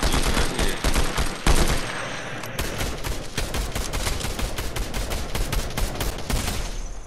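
Loud, rapid video-game gunfire in a dense run of sharp shots, with brief pauses between bursts, fills the whole stretch close and continuous.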